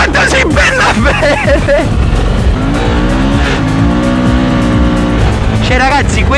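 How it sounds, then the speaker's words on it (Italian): A Suzuki V-Strom 1000 motorcycle revs hard through a wheelie, loud, close engine roar rising and falling in pitch, with a voice talking over it. "Ma quanto si impenna bene!"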